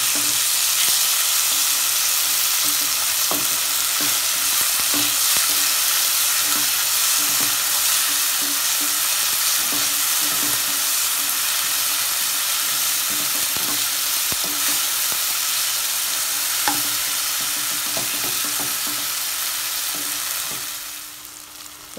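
Tomatoes fry with onion masala in a pan for tomato rice, giving a loud, steady sizzle with scattered stirring taps that fades away at the end.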